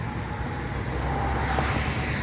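A car pulling into a self-service gasoline station in America early in the morning, heard as a steady, close engine and road rumble lasting the whole moment, with no talk.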